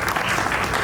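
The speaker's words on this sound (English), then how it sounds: "Please give yourself a hand of" Dense, even applause from a conference audience at a film financing event, loud and sustained throughout with no gaps.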